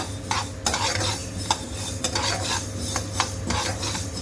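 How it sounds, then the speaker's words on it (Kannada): Mustard seeds spluttering in hot oil in a pan, a dense continuous crackle and sizzle with repeated sharp pops and scraping clinks of a utensil against the pan, with no talking. "ನೋಡಿ ಸಾಸಿವೆನು ಚಟಪಟ ಅಂದಿದೆ"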